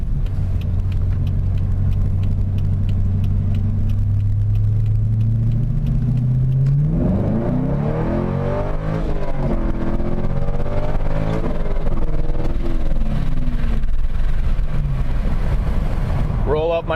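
Rear-wheel-drive manual car pulling away in first gear, the engine note climbing steadily from a low drone to a loud, harmonically rich roar that holds close and strong with wind noise.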